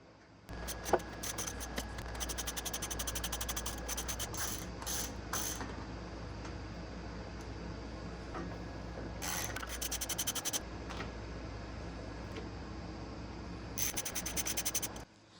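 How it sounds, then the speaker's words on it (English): Allen cap screws, likely 5mm, are backed out of a trim piece on a Honda Transalp motorcycle, making bursts of sharp, close ratcheting clicks that start and stop over a steady low background, with no talking. "There's 3 visible Allens. I'm assuming they're going to be 5mm as well. So let's take those out"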